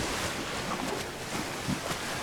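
A Carbonemys turtle dives underwater in ARK: Survival Evolved, giving a steady, muffled, broadband rushing wash of water with faint soft bumps, continuous for a couple of seconds and free of voices.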